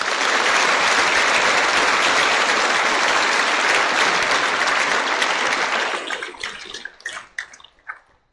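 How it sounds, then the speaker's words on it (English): A school assembly audience applauds during a distinguished alumni ceremony, a loud, dense roar of clapping that holds steady for several seconds, then thins to scattered claps and fades out. "Let's give Mr. Rodino his memory and his family a round of applause"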